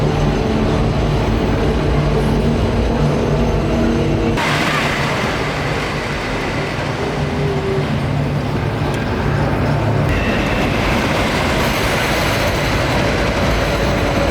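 A front-row ride on the Wicker Man wooden roller coaster at Alton Towers produces a loud, continuous rumble and clatter of the train on the track. The tone shifts partway through as the ride changes pace.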